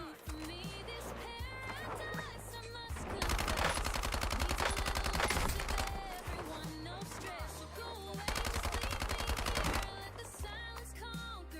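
Automatic gunfire in Warzone, with two long bursts of rapid shots standing out over background music and game sounds, while a voice talks.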